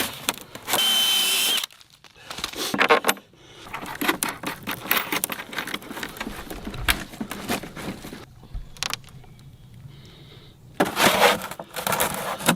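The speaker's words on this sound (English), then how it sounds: "Hopefully this works, because it's a pretty steep unibit." A power drill fitted with a unibit step drill bit bores through material at a cabin property in Alaska, whirring loudly in bursts with pauses and gritty grinding in between.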